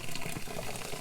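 Hot water gushes briefly down a kitchen or bathroom drain, a short close rush of pouring liquid with bubbly gurgling texture.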